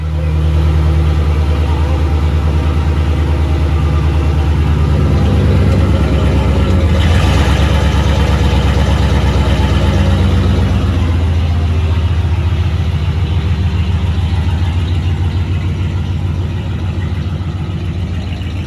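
A pickup truck engine running steadily after a U-joint repair, a loud, close mid-pitched rumble that swells slightly around the middle as it revs, then settles back to an even drone.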